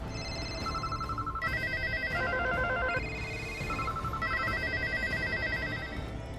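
Telephone ringing with a repeating electronic melodic ringtone, steady and continuous over several seconds against a low background hum, no speech.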